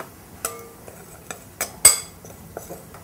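A utensil mixing dry hazelnut powder, flour and sugar in a bowl for crêpe batter, producing a few sharp scattered clinks and scrapes against the bowl, close and fairly quiet between strikes.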